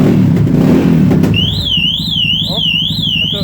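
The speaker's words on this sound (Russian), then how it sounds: "Я снимаю сигнализацию, и мотоцикл дальше начинает работать." A Yamaha XT660X motorcycle engine runs with a steady low mechanical drone while a loud, warbling alarm siren wails over it from the middle onward.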